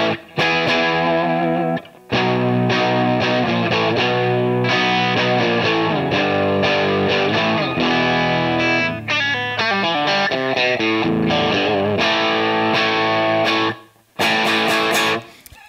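A heavily distorted electric guitar plays loud, sustained chords and riffs through a tube guitar amp pushed into power amp and phase inverter breakup, like a JCM 800, with only a couple of short gaps.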